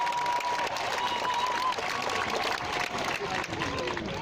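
Large outdoor crowd gathered at Marble Arch in London for a Greta Thunberg climate protest, a steady wash of applause and crowd noise at moderate distance, with talk mixed in throughout.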